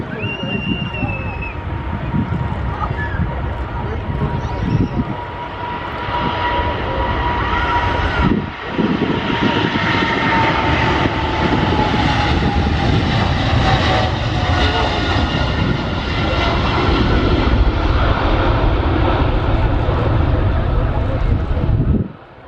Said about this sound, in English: Is an Airbus A320neo of EasyJet, and he's joining us from Corfu, one of the Greek islands.